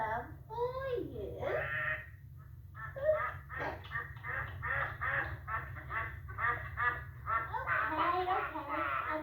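Repeated nasal quacking in quick bursts, fairly close, mixed with a voice talking.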